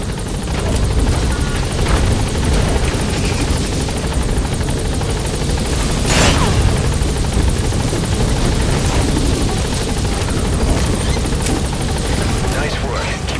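Helicopter in Metal Gear Solid V touching down: a loud, steady, close rotor drone with rhythmic chopping and engine whine throughout, continuous with no break, under faint voices.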